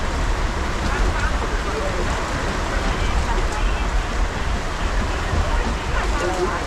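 Steady rain falling over an open-air safari truck ride through a savanna animal habitat at a theme park, a dense continuous hiss close by with no clear breaks.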